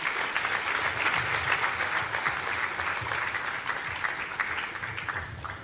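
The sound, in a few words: conference audience applause for speakers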